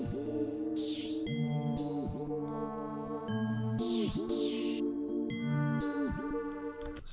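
An FL Studio drum pattern plays open hi-hats pitch-sliding like 808s over a bouncing low bass line, with recurring swooping hat bursts in a steady loop, faint and alone.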